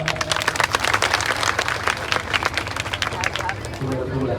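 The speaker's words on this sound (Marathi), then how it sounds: "टाळ्या" A large crowd of devotees claps together at a tulabhar ceremony during a Hindu devotional gathering, dense continuous applause filling the space with crowd murmur and voices mixed in.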